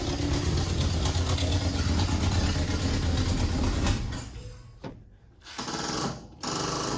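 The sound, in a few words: Ford F-100 truck engine running after starting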